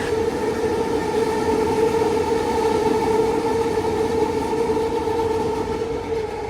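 An elevated city metro train in Kuala Lumpur passes overhead with a sustained, steady rumble and a prominent tonal whine from its motors, fairly loud, easing slightly toward the end, with no talking.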